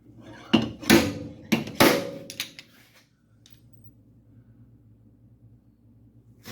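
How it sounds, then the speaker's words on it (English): Several sharp metallic hammer blows strike a kink in the sheet metal cowl panel of a 1951 Chevy truck in a quick uneven burst, followed by a few lighter taps and then near quiet. "then I should be able to hammer it back in."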